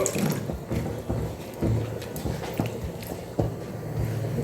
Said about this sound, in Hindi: अब हम इसमें डालेंगे थोड़ी सी पानी, तो हम हाफ कप इतनी पानी डालेंगे।